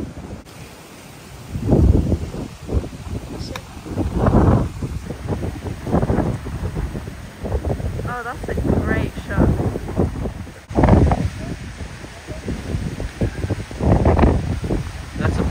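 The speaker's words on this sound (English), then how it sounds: "The wind today is about 35 miles an hour here" Strong gusty wind of about 35 mph on a golf course, buffeting the microphone in heavy low rumbling bursts, with people talking intermittently through it.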